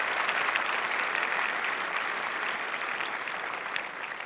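Steady applause from a crowd of students at an exam-themed event welcoming the Prime Minister, dense and even throughout with no voices breaking through.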